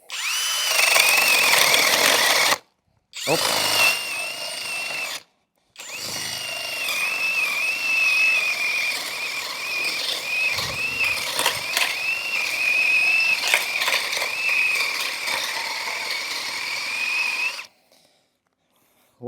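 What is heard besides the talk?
DEVETECH CIS 120 cordless drill boring wood with spade bit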